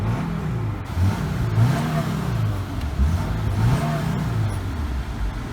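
Engine of a 1985 K10 truck revving steadily nearby, a low rumbling drone that swells and eases in repeated waves without pause.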